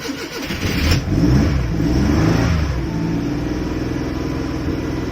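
Maruti 800 car engine cranking, catching and revving, a loud, close rumble that swells then settles into a steady idle drone, with no speech.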